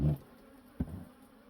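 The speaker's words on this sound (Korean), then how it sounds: "이제 벌을 좀 내리 보내야 되니까" Honey bees buzz faintly and continuously around a native honey hive, with a soft thump partway through and no speech.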